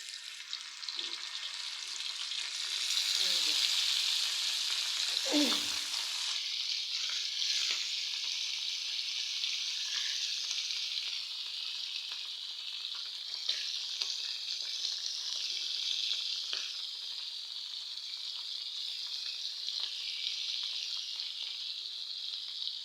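Fresh gheura river fish sizzles in hot oil in a wok, a steady bright crackle running throughout the clip with a few louder spits and stirring knocks near the start.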